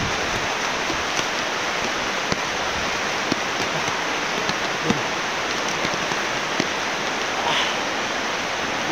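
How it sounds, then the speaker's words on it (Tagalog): Heavy rain pours steadily in a dense, even hiss that runs without pause, with occasional louder drops tapping nearby surfaces. "Ang lakas talaga ng ulan."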